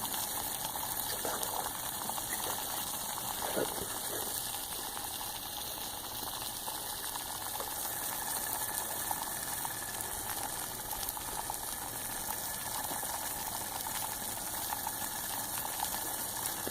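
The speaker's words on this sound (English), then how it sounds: "Look, a rolling boil" Water at a rolling boil on a Coughlans emergency stove, a steady broadband bubbling hiss with a constant burner rush that holds even and close for the whole stretch, with no voices.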